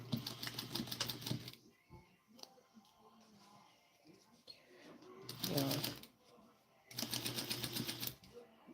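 A sewing machine stitches a Vogue 1737 garment in three loud bursts of rapid mechanical chatter, separated by quieter pauses with faint handling sounds.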